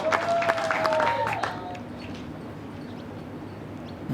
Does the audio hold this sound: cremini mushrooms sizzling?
no